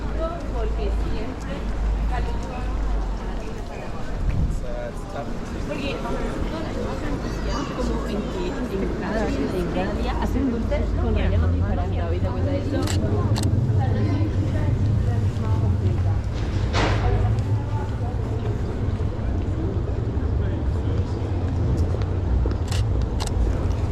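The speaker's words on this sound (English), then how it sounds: "Let's see if we can take a cool shot of this motorbike." An old Honda motorbike rolls along a city street in Krakow, its engine a low, steady rumble that swells midway and carries on under almost constant close talking and background street noise.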